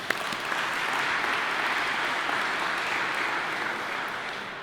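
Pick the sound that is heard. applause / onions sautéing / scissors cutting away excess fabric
applause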